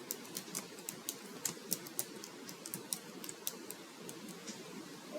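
Keys tapped steadily on a computer keyboard while typing text into an MS Word document, a quick irregular run of light clicks heard alone at moderate level with faint background hiss.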